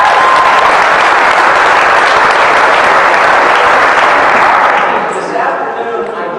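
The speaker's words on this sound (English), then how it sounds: "applaud yourself" Loud, dense crowd applause at a Kansas basketball gathering roars steadily, then tapers slightly near the end.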